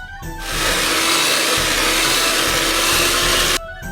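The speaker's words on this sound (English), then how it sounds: "we're just going to mix that with the hand mixer" A hand mixer whirs through sugar cookie dough for shamrock cookies, switching on with a loud, steady motor drone that holds for about three seconds and then cuts off, with no talking.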